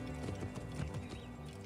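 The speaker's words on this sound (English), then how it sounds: "it's time to get off the horse" Horse hooves clip-clopping in the video game Assassin's Creed Origins, a steady run of hoofbeats with a whinny mixed in over a continuous game soundtrack, with no talking.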